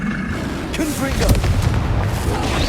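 Blasting-spell explosions in Hogwarts Legacy during a fight with a troll: deep, booming, roaring blasts that swell and overlap in a dense rumble, with voices heard alongside.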